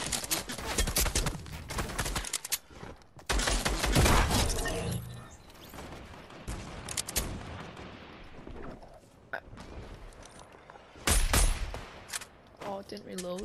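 Rapid gunfire from an automatic sniper rifle in a video game, with bursts of shots and shattering impacts under a player's voice talking throughout.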